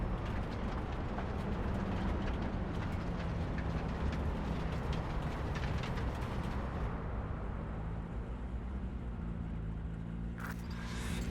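A train in Cyberpunk 2077 thunders past with a dense, loud rumble and clattering; the rush thins out partway through, leaving a lower mechanical drone.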